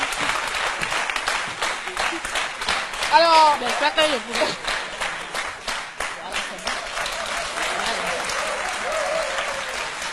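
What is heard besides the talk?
studio audience applause on TV show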